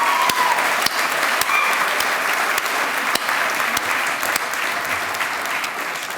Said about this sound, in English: let's have a round of applause for all of those volunteers who make this possible